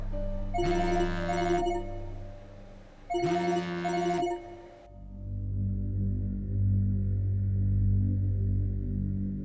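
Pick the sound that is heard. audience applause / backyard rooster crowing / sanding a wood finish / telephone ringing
telephone ringing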